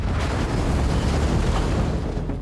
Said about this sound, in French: C'est quoi cette explosion?